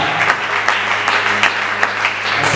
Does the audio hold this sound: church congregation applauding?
yes